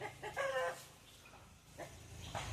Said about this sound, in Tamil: கருப்பி பொறிக்கோழி கோழி குஞ்சு எல்லாம் அங்கே தான் இருக்குது